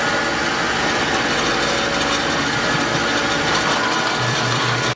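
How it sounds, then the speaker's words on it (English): A drill bores a hole through the center of a rubber hockey puck, a loud, continuous grinding whine with rattling mechanical texture that stops abruptly at the end. "take the hockey pucks and drill a hole right in the center"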